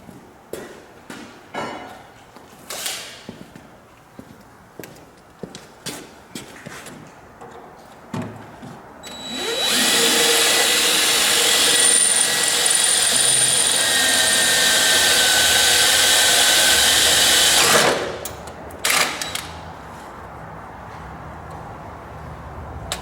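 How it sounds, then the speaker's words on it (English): A power drill whines steadily through metal for about eight seconds, loud and close, after a run of sharp knocking taps; a few clanks follow once it stops. "Nope, I'll drill it out."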